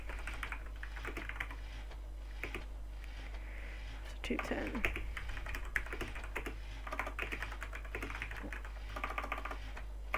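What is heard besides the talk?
computer keyboard typing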